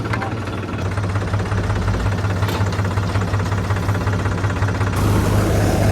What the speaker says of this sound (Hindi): अपन ने थ्रेसर को चालू कर दिया है और ट्रैक्टर की 540 डाल दी है